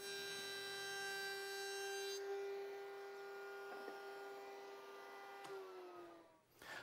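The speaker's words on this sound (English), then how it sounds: "just a matter of turning on the bit, setting the box or the tray in place, and then running it around on the inside" A router bit spins inside a wooden box-jointed tool tray, giving a steady high-pitched motor whine with a strong tonal hum that holds near and loud, then drops in pitch as the tool winds down at the end.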